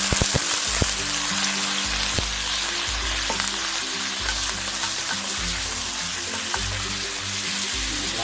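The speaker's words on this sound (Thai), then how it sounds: "เริ่มร้อนปุ๊บเราก็ใส่เนื้อลงไปเลยนะครับ" Beef pieces with a little fat frying in hot oil in a pan for Thai stir-fried beef with shrimp paste; a steady, close, crackling sizzle runs throughout with no talking.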